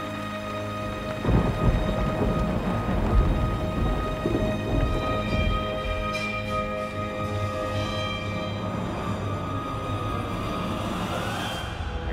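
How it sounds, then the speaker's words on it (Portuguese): Heavy rain pours steadily in Resident Evil 4 Remake, with thunder rumbling through it, loud and continuous across the whole stretch, no voices. "Olha essa chuva."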